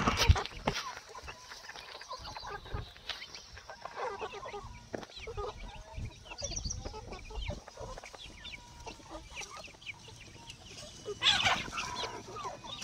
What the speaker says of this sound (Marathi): हे कोंबडे नर कोंबडे किती आहेत?